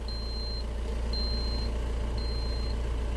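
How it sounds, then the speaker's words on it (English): A remote control for a VB Full Air 4C air suspension beeps as the vehicle lowers to parking mode: three long, evenly spaced high tones over a steady idling engine rumble. "In parking mode, the remote will permanently beep until you turn the ignition off."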